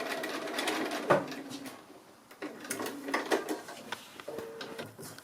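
Sewing machine stitching appliqué onto pre-quilted fabric, the motor whirring in short bursts with brief pauses between runs, close and moderately loud with no talking.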